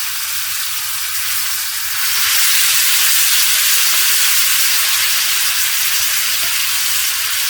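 Chicken pieces sizzle in a hot frying pan during home cooking, giving a steady, close, loud frying hiss that grows stronger after about two seconds and then holds without a break.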